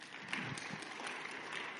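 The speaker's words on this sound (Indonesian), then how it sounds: "Beri tepuk tangan buat Tuhan" A church congregation giving applause during a sermon, a soft, distant wash of clapping that stays even for a couple of seconds.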